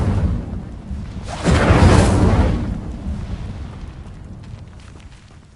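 A fire spell cast in Hogwarts Legacy bursts into a loud, roaring whoosh that swells quickly and then fades away slowly over a few seconds, with no voices.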